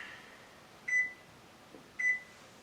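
An oven timer gives two short, clear electronic beeps about a second apart in an otherwise quiet room.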